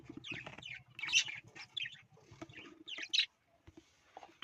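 Budgerigar chicks chirping in short, high bursts at close range, with a few louder squawky calls and a faint low hum underneath.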